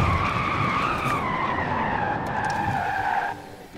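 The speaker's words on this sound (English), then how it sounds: "Nice braking, very nice braking with those raised brakes." Porsche Taycan braking hard from about 200 mph, a loud continuous tire squeal with a steady, slowly falling pitch holding for over three seconds before cutting off abruptly.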